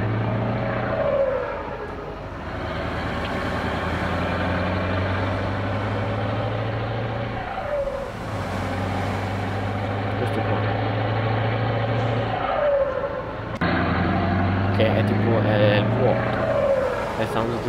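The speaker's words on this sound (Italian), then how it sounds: "Voi ci avete mai fatto caso a questo sound qua che hanno questi? Del traffico." Traffic vehicles in Euro Truck Simulator 2 rumble as a loud, steady low engine drone with a strong hum, swelling and briefly dropping away at intervals as vehicles pass.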